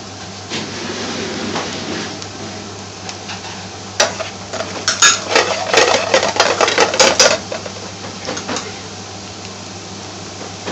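Mixed curry powder sizzles and scrapes in a hot pan as it is stirred in during Indian restaurant-style cooking, with a low steady frying hiss under irregular louder bursts of stirring and clattering.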